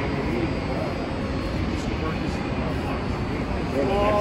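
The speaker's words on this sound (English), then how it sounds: "Looks like a rescue helicopter" A Coast Guard rescue helicopter passes overhead, its rotor and engine making a steady, broad roar that swells slightly near the end.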